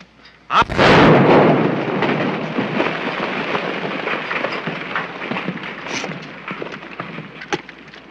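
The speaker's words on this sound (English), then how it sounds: "Somebody else shooting?" A loud gunshot cracks out in the open desert of an old 1931 western, followed by a long rolling echo that decays slowly, and a few fainter sharp reports come later.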